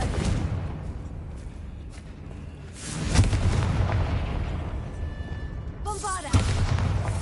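An explosion from the Confringo blasting spell in a game, a heavy boom at about three seconds that swells into a long rumbling roar, with short voiced calls layered over the blast.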